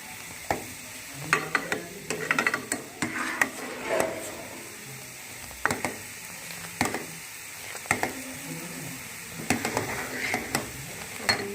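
Grated carrot gajrela roasting in a pan, a quiet continuous sizzle broken by repeated scraping knocks of a spoon stirring, irregular and close.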